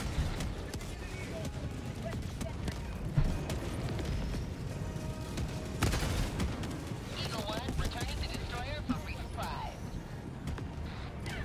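Rapid cannon sentry gunfire in the video game Helldivers 2, a dense, continuous barrage of loud blasts and explosions with a player talking over it.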